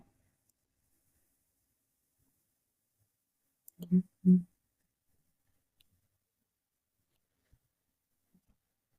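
A computer mouse gives two quick, quiet clicks in close succession, alone in an otherwise near-silent room.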